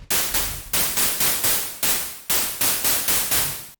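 Harsh bursts of white noise from a synthesizer noise generator layer in a future house track fire in a quick, uneven rhythm, each one cutting on sharply and tapering off, loud and close.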